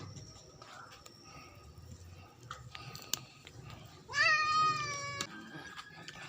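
A cat being fed lets out one loud, drawn-out meow over a noisy background with scattered small clicks and rustles.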